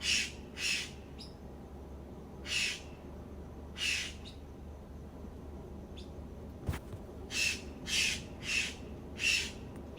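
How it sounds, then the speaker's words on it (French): A bird calls outdoors in a series of short, harsh squawking bursts, some paired in quick doubles, spaced irregularly over a quiet background with a faint low rumble. "cet oiseau."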